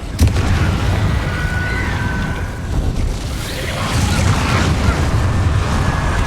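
Confringo blasting curse going off in Hogwarts Legacy, a loud sustained boom with rumbling low end and crackling debris throughout, amid game combat ambience with no talk.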